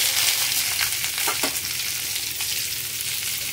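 Whole drumstick leaves hit hot oil already holding reddened chillies, and a bright, steady sizzle and spatter follows, with faint stirring clicks and no talk.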